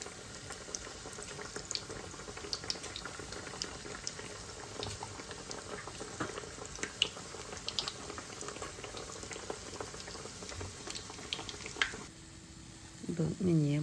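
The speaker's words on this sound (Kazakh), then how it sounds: "Енді қайнап тұрған майға бауырсақтарымызды саламыз." Baursak dough pieces fry in boiling oil, a dense, steady bubbling crackle at close range that stops abruptly near the end, followed by a brief clatter.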